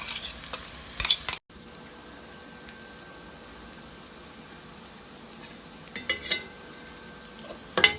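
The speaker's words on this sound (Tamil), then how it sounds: "இப்போ நல்லா கலந்துக்கோங்க." Dried Maldive fish sambol fries in a pan under a low, steady sizzle, with brisk scraping stirs at the start and again near the end.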